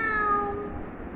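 A cat gives a single clear meow, short and fairly close, fading quickly with no talking over it.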